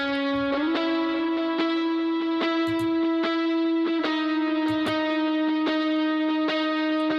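An electric guitar plays sustained distorted notes and chords through a reverb effect, each attack ringing out and blending into the next, loud and upfront with no voices.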